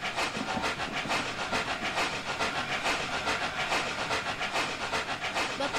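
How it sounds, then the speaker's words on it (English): Steam locomotive in the Mallard train simulator game, a steady rapid rhythm of hissing chuffs at speed, continuous and even, with no clear whistle and no talking. "Chuffing noise is really realistic, and I do like the noise that it makes, but I don't like the whistle that much"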